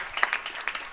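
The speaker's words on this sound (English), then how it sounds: "crowd applauds" Crowd applause at a submission-only grappling event, a brief burst of scattered clapping from the audience that rises and falls over about a second.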